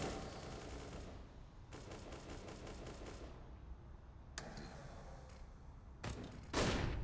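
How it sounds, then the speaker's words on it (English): Faint, distant rattling bursts of automatic gunfire echo through a Counter-Strike match in the ForZe vs Heroic semi-final at DreamHack Open Rotterdam 2019, coming in scattered volleys over a low, steady background. "Bullets rattling in the distance."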